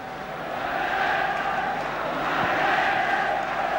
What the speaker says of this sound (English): and the crowd complained.